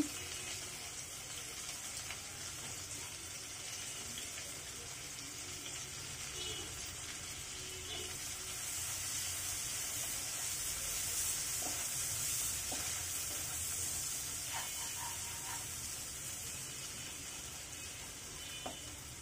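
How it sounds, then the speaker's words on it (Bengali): Chopped onion and garlic fry in hot oil in a home kitchen, with a steady close sizzle throughout and occasional soft stirring clicks, with no talking. "এই তেলের ভিতরে এখন দিয়ে দিচ্ছি পেঁয়াজ আর রসুনের কুচি।"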